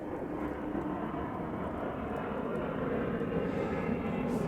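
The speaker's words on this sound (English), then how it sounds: "you hear that airplane?" A low-flying airplane passes overhead outdoors at night near a bonfire, its steady broadband engine roar loud and continuous throughout.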